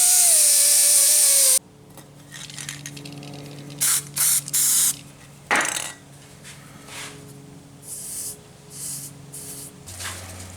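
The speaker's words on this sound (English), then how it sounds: "let me go back over to the belt sander now that I have it sort of roughed in with the angle grinder" A belt sander smooths a rust-stripped metal piece that was first roughed in with an angle grinder. It roars loud and steady for about a second and a half, then cuts out, leaving scattered, quieter bursts of grinding and handling noise.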